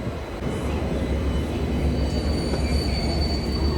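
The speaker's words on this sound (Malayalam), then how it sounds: "ഇതിപ്പം ഇവിടെ മാംഗ്ലൂരിൽ നിന്ന് തന്നെ സ്റ്റാർട്ട് ചെയ്യുന്ന ട്രെയിനാണ് കേട്ടോ" A train at Mangalore station, on a service that starts from there, gives a steady loud rumble of railway cars with faint squeals of wheels on rails. The sound holds constant throughout, and no one speaks.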